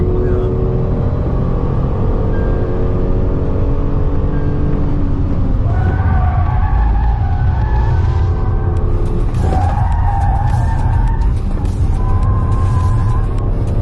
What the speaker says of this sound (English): So I told you to get into a bit of a drift kind of oversteer.